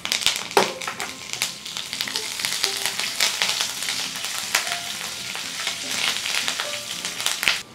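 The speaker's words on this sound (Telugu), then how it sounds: "వెల్లుల్లిపాయలని 1 నిమిషం వేగనివ్వాలి." Garlic cloves and curry leaves fry in hot oil for a tomato curry chutney, giving a steady close crackling sizzle with sharp pops and spatters throughout, no talking.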